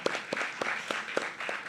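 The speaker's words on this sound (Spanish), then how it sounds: "Aplauso para Euni y Silvi" A small audience at a panel discussion gives Euni and Silvi a brief round of applause, soft scattered claps coming in a loose rhythm with some stronger accents.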